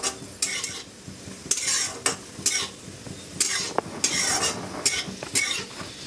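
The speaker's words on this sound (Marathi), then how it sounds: "बघा मनुके भाजायला लागलेत" Raisins roasting in ghee in a pan, a soft sizzle under repeated close scraping and clinking of a spoon stirring against the metal in an irregular rhythm.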